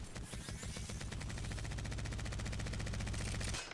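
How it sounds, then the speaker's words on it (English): The Devotion gun in Apex Legends firing a sustained automatic stream, rounds crowding closer together as the rate winds up, loud and close before cutting off abruptly. "When you shoot the devotion, it's got a wind-up speed."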